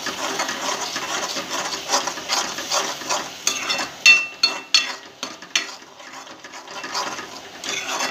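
Drumstick and potato curry with red chili powder, homemade black masala, turmeric and salt fries in oil. A steady sizzle carries throughout, with intermittent scraping and stirring sounds from a spoon in the pan and no talk.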